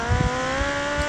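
Motorcycle engine in the game GTA Liberty City Stories, a steady droning hum with a low rumble, held at a constant pitch and fairly loud with no one talking.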